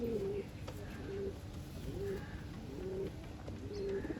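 Pigeons offered for sale in Garia coo repeatedly, about five low rolling coos in a steady rhythm, close by over a constant murmur of background noise.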